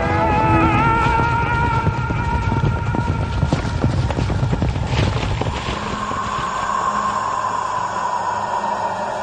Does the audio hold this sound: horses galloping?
yes